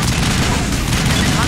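Dynamite blast from a squad explosive in the Mass Effect video game, a loud, dense burst of booming, gunfire-like rumble filling the whole moment with heavy low-end roar.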